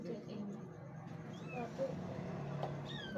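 A cat being fed drops gives a few short, thin meows that rise through a steady background murmur, fairly close but not loud, with people talking nearby.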